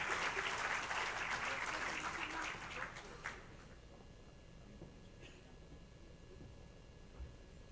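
Conference audience applause for signatories from Shell, GasUnie, utilities and the government of Aruba: a burst of clapping for about three seconds that fades out, followed by quiet room noise and a few faint knocks.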